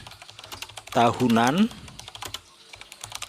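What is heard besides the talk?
typing on a computer keyboard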